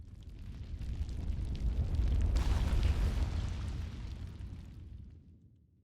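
A bomb explodes in The Legend of Zelda: Breath of the Wild with one deep rumbling boom that swells for a few seconds and then fades out.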